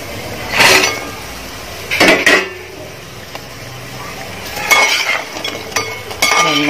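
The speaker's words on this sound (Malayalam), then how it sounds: "ഇനി നമുക്ക് ഇതിലോട്ട് ചിക്കൻ ആഡ് ചെയ്യാം." Chicken tipped into cooked masala in a pan for chicken 65, then stirred: a few sharp clinks and scrapes of a spoon against the pan come in separate bursts, with brief talk in between.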